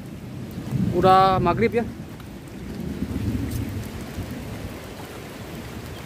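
Heavy rain pours steadily at dusk during an eel-fishing outing, with a low, rolling rumble of thunder underneath; someone speaks briefly over the downpour.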